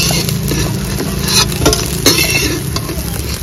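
Soybean chunks fry in hot oil in a pan for a soybean curry, a steady loud sizzle with scraping stirring strokes throughout, no talking.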